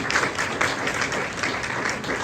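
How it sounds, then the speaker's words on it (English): A crowd at a garden rededication at a museum claps steadily for the staff, dense and evenly sustained applause with no talk over it. "just give her staff and Steve and everybody a round of applause"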